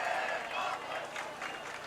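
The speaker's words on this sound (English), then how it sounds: "OC cheering for him now" A football crowd at a high school varsity game cheers and claps for a player after a sack, a fairly loud, uneven wash of applause and voices that swells and dips.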